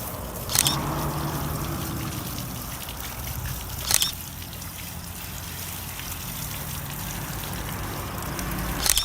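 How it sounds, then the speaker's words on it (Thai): Garden hose water washing a motorcycle, a steady broadband spray and trickle running throughout with a few sharp clicks or knocks at intervals, fairly close and alone with no talk. "เดี๋ยวไปดูขั้นตอนการล้างรถกันเลยครับ"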